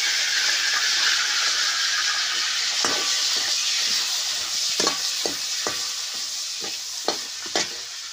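Dried Bombay duck (bombil) being sautéed over a wood-fired stove, a steady sizzling hiss broken by several sharp stirring scrapes, close and fairly loud, with no talking.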